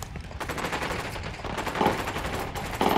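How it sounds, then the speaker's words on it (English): Gunfire in the video game Ghost Recon Wildlands: a fast burst of close automatic weapon fire crackling continuously with a few sharper louder shots near the end, fairly quiet overall and with no talk. "I'm opening fire on these shitheads."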